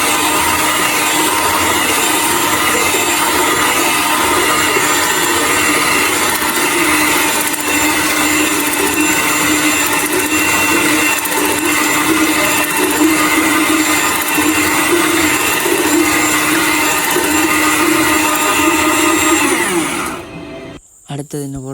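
An electric mixer whirs continuously while sugar is mixed into cake batter, a loud steady motor drone with a person talking over it, cutting off abruptly at the end.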